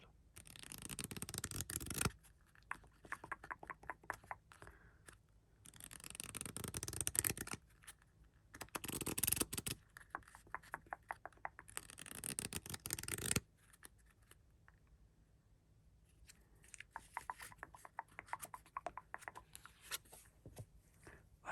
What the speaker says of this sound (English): This deck is now sufficiently shuffled.